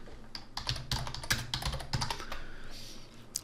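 Rapid keystrokes clatter on a computer keyboard while a title is entered into a text layer of an After Effects science opener template. The taps come in quick, uneven bursts, close and clear, and no one speaks.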